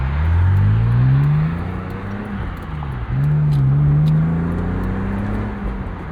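A car with an S52 engine runs through rising and falling revs, a close, loud droning whir that dips briefly before climbing again, with no voices over it.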